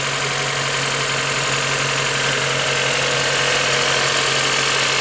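An Acura TSX engine idles smoothly just after an alternator replacement, giving a steady, even hum with no change in pitch, close and continuous with no voices.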